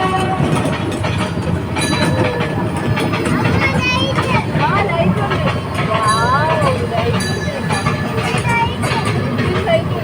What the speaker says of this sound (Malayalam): അപ്പോൾ ഗൈസ് ട്രെയിൻ പോയിക്കൊണ്ടിരിക്കുകയാണ്ടാ. ട്രെയിനിൻ്റെ ശബ്ദമൊക്കെ ഉണ്ട്.